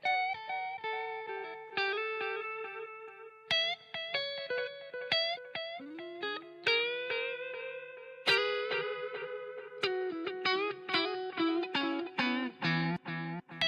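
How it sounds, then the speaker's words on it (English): Tape echo effect from the Space Echo app on iOS repeats a sequence of bright musical notes, each one trailing off in a quick string of fading echoes, with the repeats speeding up and crowding together toward the end. "Or we can turn the repeat rate knob and this will alter our echo as well."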